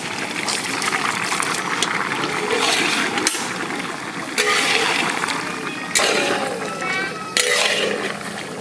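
Water or broth poured into a pot of mutton and potato curry, Bengali village style, with fried potatoes and tomato already in; close splashing pours come in several bursts with short pauses between.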